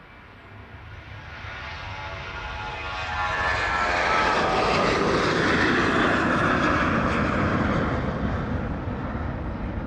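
A Jet2 airliner descends on approach to East Midlands Airport in the evening, its engines a distant rumble that swells into a loud, sustained roar before easing slightly, with no talking.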